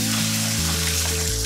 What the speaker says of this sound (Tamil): இப்போ நம்ம வந்து வேக வச்சிருக்கிற ராஜ்மா வந்து சேர்த்துருவோம்